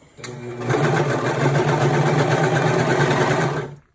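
A sewing machine runs continuously for a few seconds stitching a car trash bag, a loud close rapid mechanical whir after a brief start.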